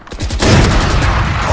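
Gunfire in the video game Valorant rattles out as a rapid automatic burst, loud and close, with tightly spaced shots running continuously to the end.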